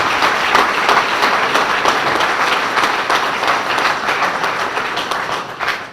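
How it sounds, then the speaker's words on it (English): Warm audience applause at a chamber of commerce dinner honoring community leaders, a loud, steady crowd of clapping hands held for several seconds and easing off at the close. "Now please join me in applauding them for all of their hard work and leadership."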